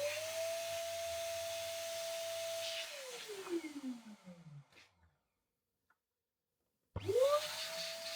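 A pump inflating an 18-inch balloon for baby shower decor, a steady close whine that drops in pitch as it slows, a pause of silence, then the pump starts up again.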